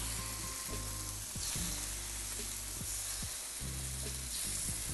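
Scallops sizzle on a hot grill sprayed with canola oil, a steady close crackling hiss running the whole time, with soft tonal background music underneath.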